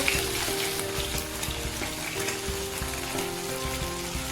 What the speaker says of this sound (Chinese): 鸡肉炒出香味以后